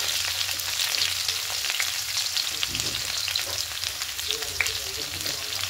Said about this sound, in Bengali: সবজিগুলো দিয়ে হালকা লাল করে ভেজে নেব।